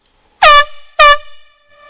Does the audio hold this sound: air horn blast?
yes